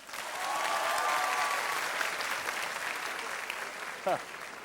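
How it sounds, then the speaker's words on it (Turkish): Studio audience applause on a Turkish television talk show, a broad steady roar of many clapping hands with a short whistle-like sound near the end and some voices mixed in. "Şimdi erkeğine ayrı bir alkış alalım."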